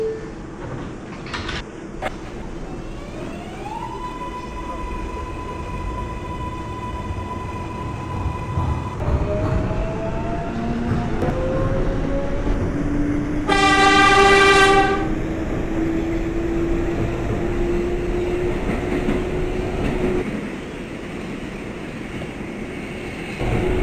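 A simulated NYCT R142A 6 subway train on the IRT heads toward Brooklyn Bridge in OpenBVE, with rising motor whine tones as it accelerates, a steady running rumble and a loud horn blast midway.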